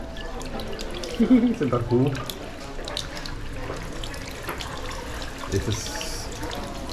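Water runs steadily from a faucet in a hillside restroom at Xcaret park in Mexico, a soft continuous hiss beneath a person talking nearby.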